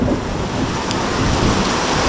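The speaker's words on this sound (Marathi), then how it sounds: "जोरदार पाऊस आलाय" Steady, dense rain hissing without a break, a heavy midday downpour over a village, with a low rumble underneath and no voices.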